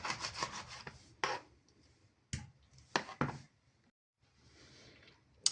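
Knife slicing mackerel into portion pieces on a board, heard as rasping, rubbing strokes in short bursts with quiet gaps, close and fairly soft, with no talk.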